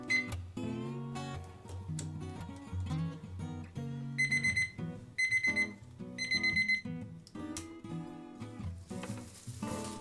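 A kitchen timer rings while ciabatta bread dough rests, sounding three bursts of rapid beeps in the middle over tonal background music.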